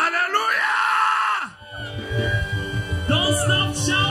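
A church congregation at a Sunday thanksgiving service shouts and screams praise loudly, a sustained crowd roar that dips briefly midway, then surges again with overlapping yells.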